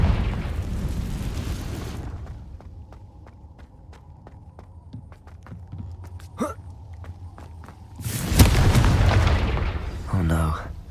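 In Hogwarts Legacy, the Confringo fire spell bursts into a loud explosive blast against a giant spider, preceded by quieter footsteps and small impacts, with a character's voice heard amid the fight.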